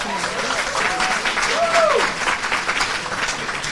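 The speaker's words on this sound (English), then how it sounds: "Y'all can applaud for that." Applause from the audience at an in-person high school scholars' graduation ceremony, steady crowd clapping with a voice speaking over it.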